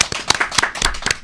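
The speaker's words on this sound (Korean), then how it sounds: "큰 박수로 환영해 주십시오." A studio audience claps to welcome two guests onto a Korean talk show set, with sharp, uneven hand claps close by and steady for just over a second.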